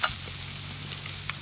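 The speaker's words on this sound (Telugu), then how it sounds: "ఈ వేసిన మిల్ మేకర్ మొత్తం చక్కగా కలుపుకుందాం" Meal maker soya chunks stirred as they fry in a pan, a faint steady sizzle with light scraping from the stirring and a small clink at the start.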